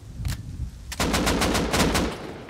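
Rust gunfire: a single loud shot, then a rapid automatic burst of about eight evenly spaced cracks, close and punchy, with no voices.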